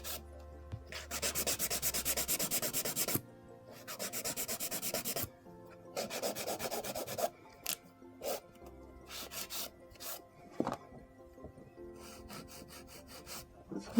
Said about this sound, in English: filing these up, I'm going to start with my side walls. I'm using the Neo Nails 180.